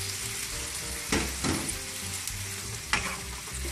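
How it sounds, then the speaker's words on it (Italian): Guanciale and artichokes sizzle steadily in a pan over raised flame as white wine cooks off, with a few louder bursts and scrapes of stirring breaking through the continuous hiss. "aggiungiamo il nostro vino bianco e sfumiamo. Alziamo la fiamma e lasciamo evaporare per ancora 2-3 minuti"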